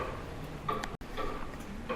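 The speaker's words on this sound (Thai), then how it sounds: "เขาใส่เป็นเสียงนาฬิกานะ" A clock-ticking sound effect plays in an exhibit at the Nagasaki atomic bomb museum, giving a few soft, evenly spaced ticks over a steady wash of room noise.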